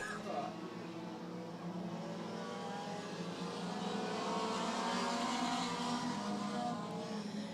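Race cars circling the oval at Hudson Speedway, car number 14 among them, make a continuous loud roar of several engines that swells toward the end, with a voice faintly mixed in.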